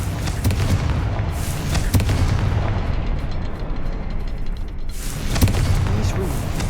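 A Confringo fire spell erupts in a video game as a sustained loud rumbling blast that rolls on for several seconds, fades briefly, then swells again with another booming burst.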